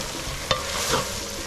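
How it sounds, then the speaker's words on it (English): Ingredients for adwoatoe stew stir-fried for Ghanaian akple, a low steady sizzle with a brief utensil scrape midway and soft stirring after, no voices. "So stir fry for 10 minutes before the next stuff comes."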